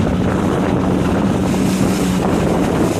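Steady roar of strong wind across a Laser sailing dinghy in heavy breeze, blended with water rush against the hull, loud and continuous throughout with no talk.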